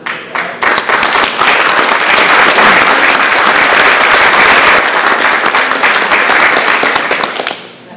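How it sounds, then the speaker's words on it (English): Dense, loud applause from a graduation audience at Acadia University fills the space, swelling quickly after a brief start and holding steady for several seconds before tapering off near the end. "you deserve a huge round of applause"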